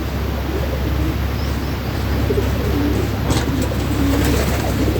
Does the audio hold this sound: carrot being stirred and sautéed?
no